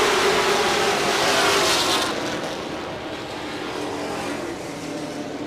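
A pack of stock cars roars off at the green flag on a dirt oval, a loud broad engine wash that is strongest at first and then eases slightly as the field pulls away.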